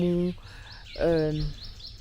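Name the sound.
birds chirping in nature in Yaoundé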